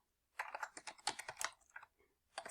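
An SQL statement is typed on a computer keyboard for a remote desktop session: a quick, close clatter of keystrokes after a brief silence, with a short pause before a few more taps.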